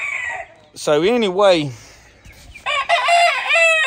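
A gamefowl rooster, a solid black game breed, crows loudly and close in one long, wavering call, then further crowing-like calls follow; someone speaks briefly at the start.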